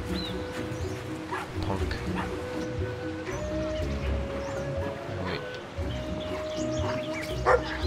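A dog barking in the video game Brothers: A Tale of Two Sons Remake on Xbox Series X, a few yips and barks over game music and ambient rustling while a person talks.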